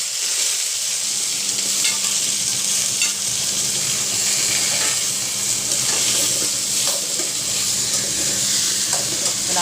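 Onion, tomato, garlic, green chili and curry leaves sautéing in a hot pan, giving a steady, dense sizzle with light stirring scrapes throughout, close and continuous with no talk.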